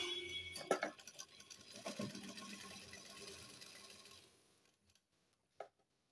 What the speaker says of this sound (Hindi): इधर की साइड भी हम कुछ इस तरह से ही सिलाई लगाएंगे